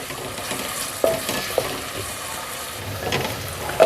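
Onions frying gently in a pan for a qeema matar (mince and peas) dish, a soft steady sizzle with a few clinks and stirring scrapes, close and moderately quiet with no voices.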